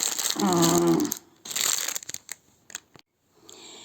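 Crinkling and rustling of a plastic seed packet being handled, in irregular bursts with brief pauses, close by; a short tonal squeak appears early on.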